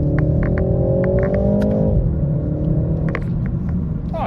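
G20 BMW 330i pulling away in first gear, its engine rumbling and rising in pitch as it accelerates, then dropping back briefly before climbing again; close, steady interior sound with light clicks and no voices.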